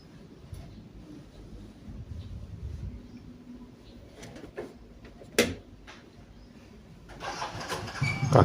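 A motorcycle engine cranks with a few clicks and bursts, then catches and begins to rumble toward the end, fairly close.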